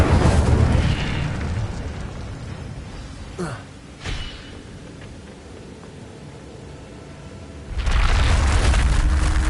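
Incendio fire spell in Hogwarts Legacy, a loud roaring fiery blast at the start that drops away, then another rushing burst of flame swells near the end, with a quieter rumbling stretch between.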